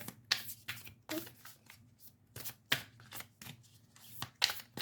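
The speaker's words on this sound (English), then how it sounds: "They're kind of hard to shuffle still." A fairly new spirit animal card deck is shuffled by hand up close: quiet, papery riffling bursts repeat every half second or so, with soft hand handling between them.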